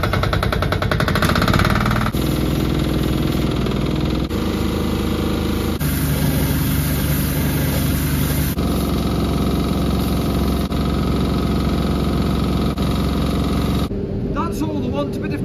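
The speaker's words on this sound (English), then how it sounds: "That little still forklift overheats again." A steady forklift engine runs continuously at a low, even drone, loud and close, with a brief change in tone near the end; the forklift is prone to overheating.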